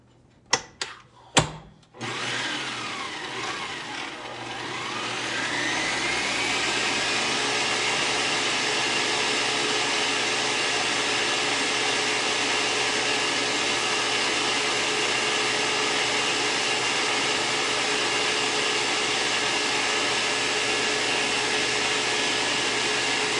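An electric hand mixer whirs steadily as it blends keto pancake batter, starting with a few brief bursts and then running continuously at an even, fairly loud pitch near the microphone with no talking.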